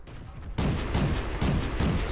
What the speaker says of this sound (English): So here we go with the 25mm auto cannon.